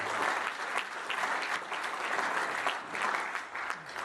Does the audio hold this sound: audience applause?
yes